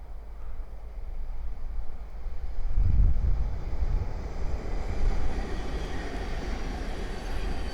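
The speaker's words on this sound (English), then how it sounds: "the next train to pass by is a Thameslink 700 from Royston to London King's Cross" A Thameslink Class 700 electric train running from Royston to London King's Cross passes on the East Coast Main Line, a rumbling roar that swells around the middle and stays loud, with wind buffeting the microphone throughout.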